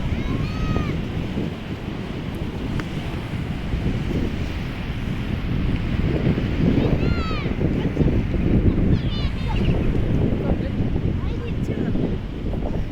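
Strong wind buffets the microphone on a beach in Mansouria, Morocco, with a continuous roar of sea waves and surf beneath it and faint birdlike chirps now and then.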